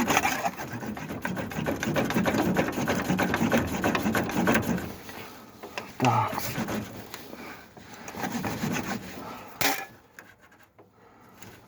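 A steady, rasping saw cutting through wood, continuous strokes close by, pausing briefly near the middle and again toward the end.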